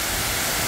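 A brief moment of Suok waterfall in Goesan, a 20 m fall surrounded by huge rock walls, giving off a steady, loud wash of rushing water with no voices.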